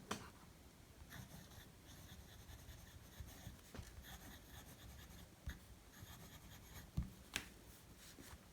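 A Lamy Studio fountain pen with a medium nib and blue cartridge, unposted, writes on paper: quiet, close scratching and rubbing strokes with occasional small taps, steady and faint throughout.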